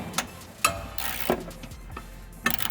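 A ratchet wrench undoes the last bolt on a rear sway bar link of a Mustang. Several separate bursts of clicking are heard up close, with brief gaps between them.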